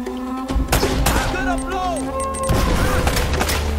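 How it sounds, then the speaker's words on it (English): A fiery blast from an enemy in the jungle ruins of the Uncharted: Drake's Fortune video game, with sharp bursts and crashes among gunfire and game music, loud and close. "I made him explode himself."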